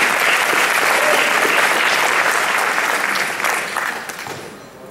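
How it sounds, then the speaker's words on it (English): A crowd applauds a contestant at a state fiddle championship in Arkansas, with loud, dense, sustained clapping that holds steady and then tapers off toward the end. "So please, a nice round of applause for contestant number three."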